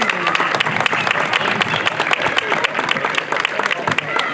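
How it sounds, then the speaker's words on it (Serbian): Audience at a tournament awards ceremony in Trnovče applauding a sponsor, steady close clapping from many hands with faint crowd murmur underneath. "Jedan aplauz za nju."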